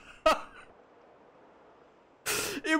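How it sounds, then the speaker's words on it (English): A single short cough near the start, then quiet, then a louder throat-clearing burst or cough toward the end, close to the microphone during golf gameplay. "I had a cough."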